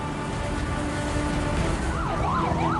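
A fire engine siren wails at a warehouse fire in Tangerang, rising and falling in a sweeping pattern that swells in over the steady drone of traffic and engines, moderately near, with no talking.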